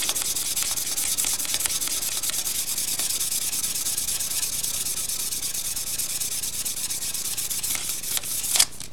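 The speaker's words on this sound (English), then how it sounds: "we do quite a bit of sanding while the lathe is on" Continuous abrasive rubbing hiss of sandpaper against a wooden pen blank spinning on a lathe, steady and close, with a brief louder scrape near the end.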